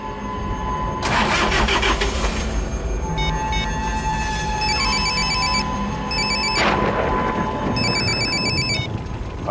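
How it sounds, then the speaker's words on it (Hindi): An electronic telephone ring trills in repeated bursts, over a loud rumbling engine and broadband noise, with no one picking up. "रमेश फोन क्यों नहीं उठा रहा?"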